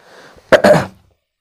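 A person with a sore throat lets out a short, close, loud cough, a quick double burst with a rough, throaty edge, preceded by faint breathy sounds.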